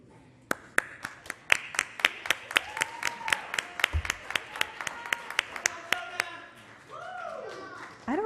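An audience claps for a student rep at a school board meeting, a run of sharp, fairly sparse claps that thins out toward the end, with voices and a few cheers mixed in.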